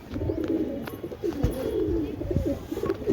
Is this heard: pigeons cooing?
yes